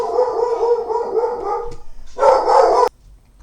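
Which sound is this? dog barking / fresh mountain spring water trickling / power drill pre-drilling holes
dog barking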